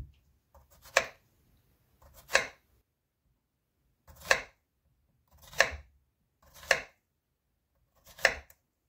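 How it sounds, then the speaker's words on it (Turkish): A knife chops zucchini into rings six times on a cutting board, each sharp strike separated by a pause of over a second, in an otherwise quiet room. "halka halka kabaklarımızı, 2 adet kabağımızı doğrayalım"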